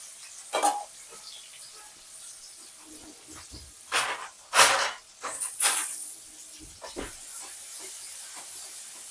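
Green chilli and onion frying lightly in oil in a home kitchen, giving a steady soft hiss with short louder bursts of sizzle and stirring scrapes, no talk.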